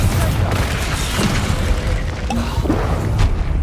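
A Confringo fire spell explodes in the Hogwarts Legacy video game, a loud booming burst with crackling over a dense rumbling combat background, with faint voices underneath.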